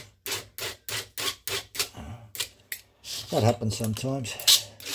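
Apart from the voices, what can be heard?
hand filing chainsaw chain depth gauges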